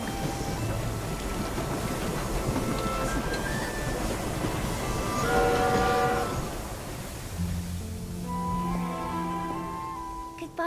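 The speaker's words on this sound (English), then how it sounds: "Look, the train is here." A train in the Infinity Nikki video game pulls in, a steady rumbling roar that swells and brakes, with long horn-like tones and a deep low blast toward the end, loud and close.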